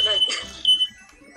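A smoke alarm in an apartment sounds a few short, thin, high beeps, faint and partly masked by people talking nearby.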